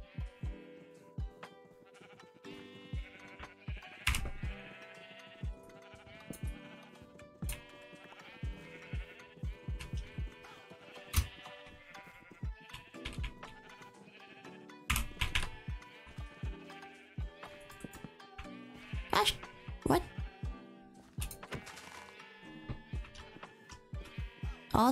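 Sheep in Minecraft bleat repeatedly in wavering, nasal cries, overlapping with clicking keyboard taps and scattered game noises over a steady stretch of play.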